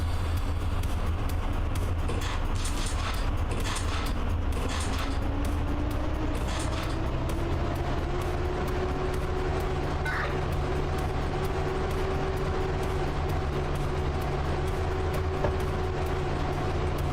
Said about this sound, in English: Right, so we are now departing.